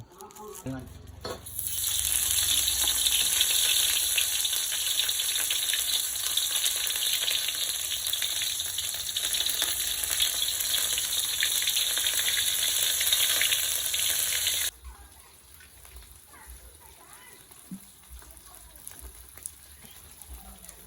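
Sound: curry paste stir-frying in oil

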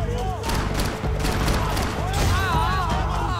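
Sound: gunfire from enemy shooting in video game Max Payne 3

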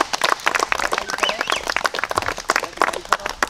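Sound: audience applause

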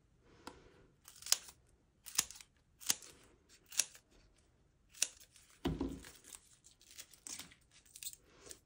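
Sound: scissors cutting foam pads into strips

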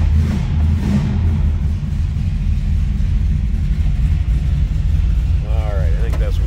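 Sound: 1955 Dodge Coronet engine running while warming up

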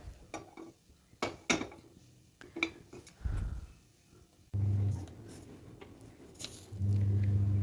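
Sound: pan placed on stove and oil poured in

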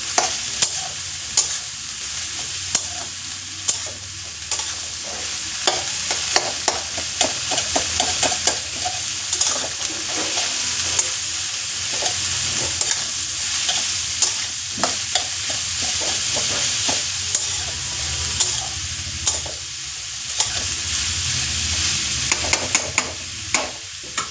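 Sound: cabbage frying in a pan

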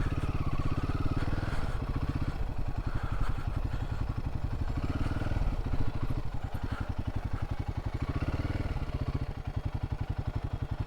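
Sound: Royal Enfield Himalayan 450 motorcycle riding on forest route

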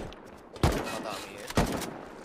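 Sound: gunfire aimed at the player in the video game Rust

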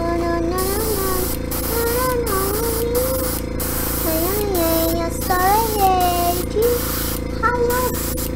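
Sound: spraying paint onto a miniature figure

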